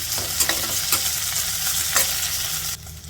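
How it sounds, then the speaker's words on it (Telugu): Cumin seeds and chopped green chilies sizzle loudly in oil over a medium flame, a dense continuous crackle broken by a few sharp scrapes of a spoon stirring the pan, with no voices. "ఇప్పుడు మీడియం ఫ్లేమ్లో ఇలా కలుపుకుంటూ 1 నిమిషం ఫ్రై చేసేసుకోవాలి."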